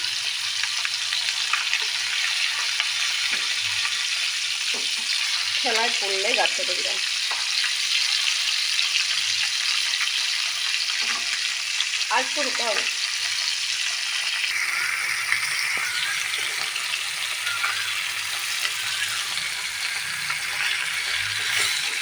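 Bata fish fry lightly in a pan, giving a constant bright sizzle throughout, while someone speaks briefly over it a few times.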